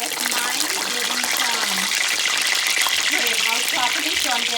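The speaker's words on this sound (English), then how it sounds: "if the chicken is not completely drained out and there's a lot of water inside, it will splatter up" Pieces of Guyanese Chinese fried chicken sputter and splatter in hot oil, a dense continuous crackle and hiss with a voice talking over it.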